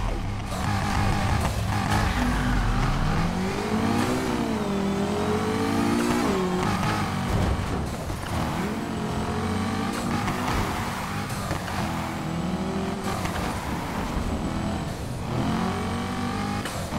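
A Corvette engine in the Need for Speed Heat racing game, revving loudly and continuously, its pitch rising and falling through repeated acceleration sweeps and gear changes with no pauses.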